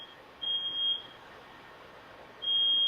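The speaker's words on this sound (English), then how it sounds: "that was kind of the fire alarm in where I live" A fire alarm in a residence sounds as a high, piercing electronic beep. One short tone comes first, then a longer beep, then another after a pause. The beeps are fairly faint against a quiet room.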